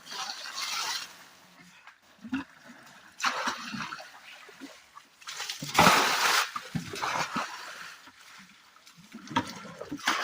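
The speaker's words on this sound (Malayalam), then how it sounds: "ഒരേ സമയത്ത് എത്ര വെള്ളമാണ് പോകുന്നത് നോക്കി" Water from a motor pump gushes and splashes in uneven surges beside a Kerala village fishing pond, loud bursts alternating with quieter trickling stretches.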